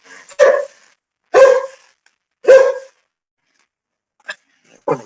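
A dog barks close and loud, three sharp separate barks followed by two shorter yips, with silence between them.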